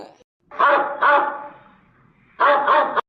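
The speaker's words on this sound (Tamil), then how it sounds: "ஓ இந்த நாய் இங்கேயே வந்துட்டா" A dog on a residential street barks close by in two quick pairs, four sharp barks in all, separated by a short quiet gap.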